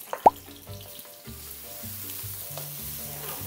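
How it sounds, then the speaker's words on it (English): Garlic and onions toasting in oil in a wok for fried rice: a soft, steady sizzle after a sharp initial pop, under quiet background music. "Dito naman, medyo tutustahin mo yung bawang tsaka yung sibuyas."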